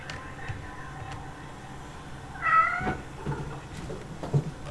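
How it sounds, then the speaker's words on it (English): Cats meow in The Cat Lady game, a brief, clear meow in the middle over a quiet background, with a few fainter sounds around it. "My cats are going crazy, probably because of the cat lady."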